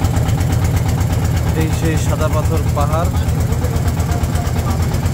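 A boat engine idles with a steady low rumbling throb at a Sylhet river crossing near the white stone hills, continuous and close while someone talks over it.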